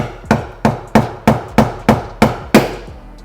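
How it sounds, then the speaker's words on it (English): Roughly 20-ounce ball peen hammer striking a pick tool to push a pin out on a BMW G80 M3 mud flap install, eight sharp metallic taps in a steady rhythm, close and loud with no talk. "take a small, not really a small hammer, this is about a 20-ounce ball peen hammer"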